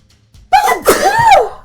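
A single loud, close human sneeze with a sharp intake and explosive burst, heard alone without talk.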